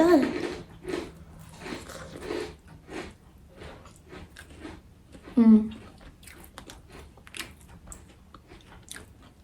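Someone chewing toast topped with cheese over soup, with soft crunchy bites and mouth sounds close to the microphone, interspersed with speech.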